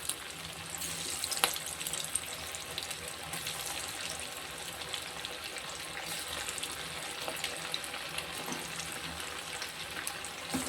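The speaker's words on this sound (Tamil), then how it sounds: "நான் பொறிச்சுக்கிட்டு பார்ப்போம் மீன் வந்துக்கிட்டு இருக்கு" Ray fish pieces fry in oil, a faint, steady bubbling sizzle heard from a distance, with occasional soft clicks and no voices.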